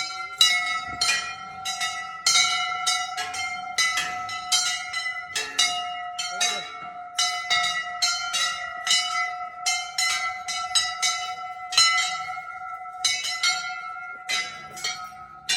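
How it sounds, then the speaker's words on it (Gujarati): Many temple bells ring out repeatedly in quick, uneven strikes, their bright metallic tones overlapping and sustaining, close by, with voices faintly mixed in. "ઘંટી વગાડવાની. વગાડો."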